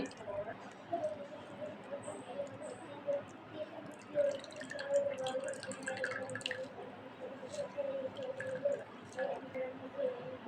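Grated coconut soaked in water is wrung by hand to press out its milk, giving soft, wet squelches and faint drips close by under quiet talk.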